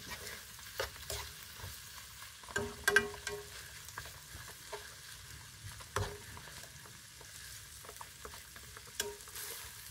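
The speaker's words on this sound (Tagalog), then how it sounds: "So, ating lutuin ang ating tokwa." Tofu cooks in a pan for an udon dish, with a soft sizzle of frying under repeated stirring and scraping clicks from a utensil. The sound is close and moderate in level, with no talking.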